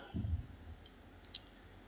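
Mouse clicks as a new blank document is opened on a computer: a soft low thump at the start, then a few faint, sharp clicks spread over the next second, with no talking.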